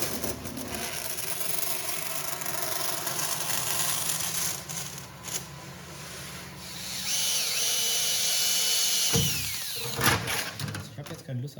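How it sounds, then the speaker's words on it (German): A workshop saw cuts through thin sheet metal for a vise chip drawer, a loud continuous rasping that rises in intensity partway through, then stops and leaves a few short scrapes and knocks. "deswegen säge ich das kaputt."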